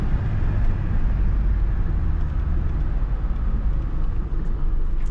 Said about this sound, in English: I'm gonna brake to yield down here.